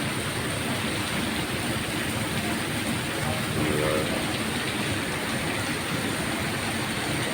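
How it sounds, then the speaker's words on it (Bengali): Steady, dense patter of rain falling continuously, a broad hiss filling the whole clip with a faint murmur of voices in the background. "আর বৃষ্টির শব্দ তো শুনতেই পাচ্ছেন"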